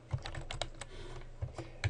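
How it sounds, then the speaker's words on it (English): Arrow keys and other keys tapped on a computer keyboard while building tables in Microsoft Word 2010, a steady series of close, crisp keystrokes with irregular spacing and no talking. "And I'm just using my arrow keys to move around"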